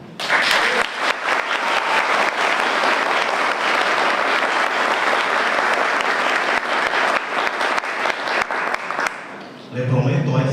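A law school class audience breaks into loud, sustained applause in tribute to a group of students, thick clapping that carries on for about nine seconds before fading as a voice resumes speaking.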